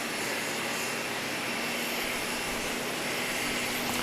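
A 45-year-old propeller aircraft at Grand Cayman airport holds a steady, loud engine drone with a constant tonal hum, no voices over it.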